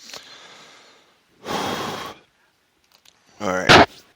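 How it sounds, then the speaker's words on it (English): Coughing after smoking Purple Kush from a vaporizer pipe: two harsh, close bursts of coughing separated by a pause, the second sharper with a raspy, throaty gasp, following a softer breathy exhale. "There's the cough."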